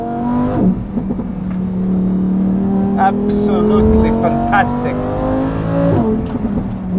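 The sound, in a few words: Lamborghini Huracán EVO driving and accelerating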